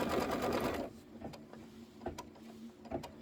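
A home sewing machine stitching the outer borders of a quilted table topper, starting with a loud, rapid full-speed whir that stops abruptly, then quieter clicks and brief mechanical taps follow.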